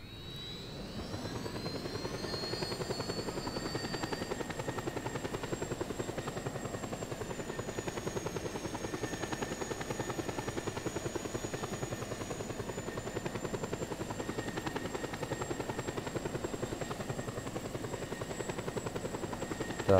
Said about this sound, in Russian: Смотрите, ребят, какой крутой вертолет.